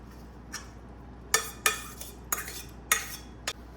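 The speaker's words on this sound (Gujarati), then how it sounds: "હવે અંદર દાળ નાખી દઈશ." Metal spoon clinks and scrapes against a cooking pot as lentils (dal) go in with softened tomatoes, a handful of sharp, distinct taps and stirs spaced irregularly over a quiet background.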